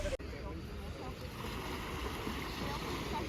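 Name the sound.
sea waves at beach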